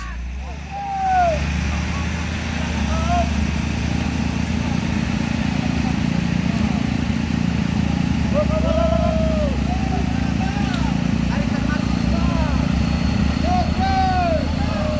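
A truck engine labours and revs hard on the steep Kedabuhan uphill climb, a loud, steady low drone that holds throughout, with people shouting over it.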